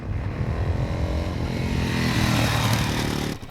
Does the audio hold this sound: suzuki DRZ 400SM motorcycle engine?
yes